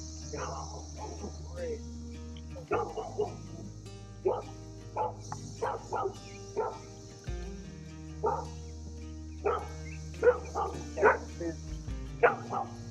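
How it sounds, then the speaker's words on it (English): A dog barks repeatedly in short bursts at a distance beside a country road ridden by e-bikes and a motorcycle, over a constant chorus of insects and a low rumbling hum. "Hope this dog don't chase us."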